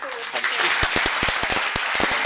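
Audience applause at a talk in an arts venue, dense clapping with a few sharp close claps standing out, while a voice carries on over the top.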